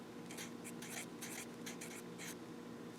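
A pen writes a number on paper while a math word problem is worked out: a series of short, crisp scratching strokes in quick bursts, close up and alone over a faint room hum, with no talking.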